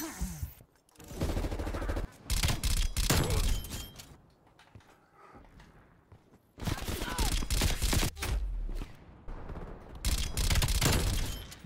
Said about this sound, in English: The fire is just insane, man.